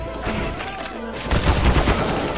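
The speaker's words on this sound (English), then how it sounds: "He shot me through that wall." Gunfire in Counter-Strike: Global Offensive, a burst of rapid shots and booms that grows denser and louder toward the end, heard up close with game ambience.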